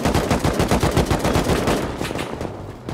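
Rapid automatic gunfire in the survival video game Rust, a loud continuous stream of shots emptying a full magazine, close and dominant, tapering slightly near the end.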